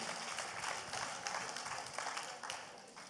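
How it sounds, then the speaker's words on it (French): Audience applause at a Paris housing debate, a steady, distant wash of many hands clapping at low volume, continuous for the whole stretch with no clear speech over it. "On applaudit encore"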